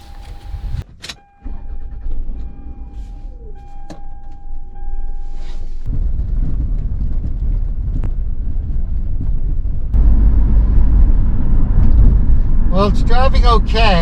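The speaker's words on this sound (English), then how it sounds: "There's a winding sound this is why I kind of parked it." A car with a mechanical fault drives along with a rising road rumble and a persistent whining drone, after a sharp door-like clunk near the start; brief chirps sound near the end.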